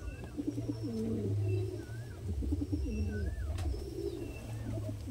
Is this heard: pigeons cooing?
yes